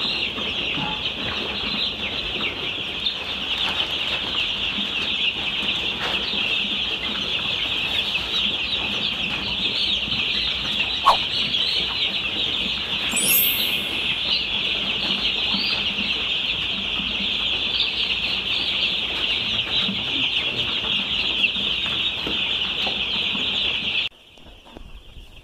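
Chickens cluck during a poultry vaccination in which Newcastle disease vaccine is given in drinking water; a close, dense flock keeps up constant chatter for over twenty seconds before a sudden drop near the end.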